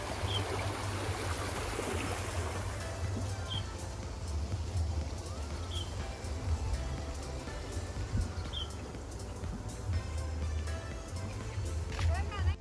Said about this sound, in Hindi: ये जो पानी आ रहा है ना, ये पहाड़ों का ही पानी है, और इतनी आवाज आ रही है